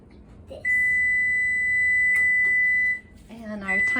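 A kitchen timer beeps in one long, loud, steady electronic tone, with kitchen clatter and a voice starting up underneath as it ends.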